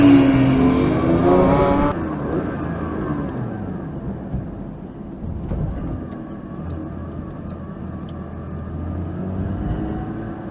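A 2022 Porsche 911 GT3's naturally aspirated flat-six engine, loud and close, starts with a high rising rev, then drops to a steady, deep running drone with a second surge near the middle.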